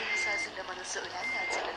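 A bus backing up to dock gives off a loud, steady series of electronic reversing beeps over a rumbling engine, with a faint voice in the background.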